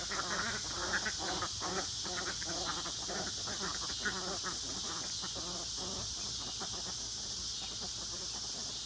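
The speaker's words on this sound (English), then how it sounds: "here comes the guineas. Guineas like to hang out with the ducks." A flock of ducks quacks in rapid, overlapping bursts alongside guinea fowl chatter, continuous and moderately near over a steady hiss.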